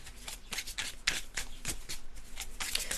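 Tarot cards are shuffled in a continuous run of soft, papery riffles and flutters, close and fairly quiet, with no talking.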